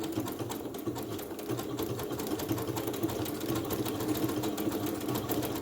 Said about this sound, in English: I'm going to go ahead with this number 1 heirloom stitch right up to this first little marking I have.